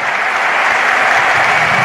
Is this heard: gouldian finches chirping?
no